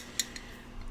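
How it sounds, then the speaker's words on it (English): A box of brand-new craft items is shaken, giving a few faint clinks and then a loud rattling burst at the very end. "So I'm just going to give this a good shake now."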